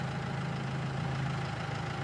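A tractor engine idling in Farming Simulator 22, a low, steady, even rumble that holds constant throughout, fairly quiet and with no talk over it.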